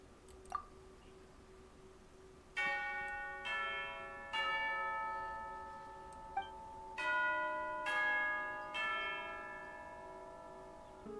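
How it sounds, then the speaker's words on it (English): Tea time bell chiming in Genshin Impact, about six clear, resonant strikes with long ringing decays, spaced irregularly over a quiet background, with no talking. "Is that the bell?"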